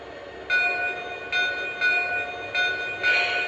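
A Lionel Legacy Southern model train sounds bell 1, a bright metallic ding repeating about every second in a steady rhythm, clear and close with no voices.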